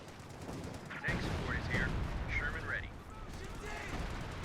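Gunfire and artillery rumble from a 4v4 Company of Heroes 2 battle on the Hill 400 map, with sustained booming and crackling shots running throughout, under and alongside a commentator's talk.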